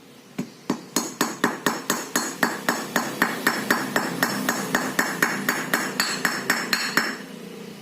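A hammer taps a bearing into a brake drum, steady metallic strikes roughly three or four per second, about two dozen in all, loud and close with no talking.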